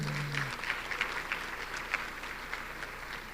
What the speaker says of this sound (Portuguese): aplaude o Senhor pela vida do Nicolas